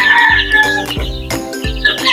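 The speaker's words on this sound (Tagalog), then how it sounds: "Ito naman na yung mga sisiw natin" Native hens and their chicks on a farm cluck and call loudly and close by, with repeated bursts of clucking and high chirps from the young birds.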